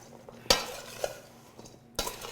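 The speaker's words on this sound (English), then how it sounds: "I'm going to put this in with the cauliflower. We're just going to mix it all up." Cauliflower pieces being mixed together in a bowl for roasting, giving three sharp scraping clatters of utensil against dish with softer stirring rustles in between, close and alone, with no talking.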